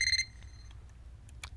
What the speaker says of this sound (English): Now I'm pushing it in here, and you can hear the alarm go.